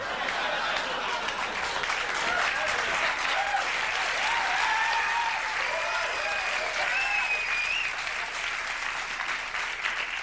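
A television studio audience at a late-night talk show applauds in a sustained, dense roar of clapping, steady and fairly loud, with a few faint whistles rising through it.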